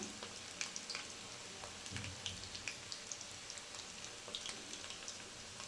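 Cauliflower florets for dry gobi deep-frying in hot, foaming oil: a steady dense crackle and fizz with scattered small pops throughout, close and even, with no talking.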